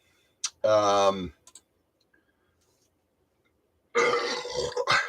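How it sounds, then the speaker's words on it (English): A long, deep, resonant burp rings out loudly, followed by a pause and then a rough, gurgling second burst trailing off. "Here comes that big burp. The beer burp."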